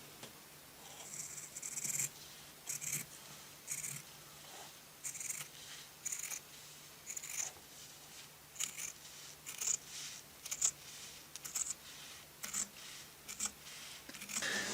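Scissors snip through fabric to cut out a cape along a paper pattern for a vintage 12-inch Darth Vader toy, a steady series of short, quiet, close cuts with brief pauses, nobody speaking.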